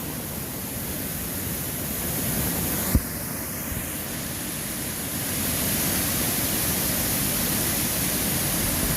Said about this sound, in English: look at all the current on that weir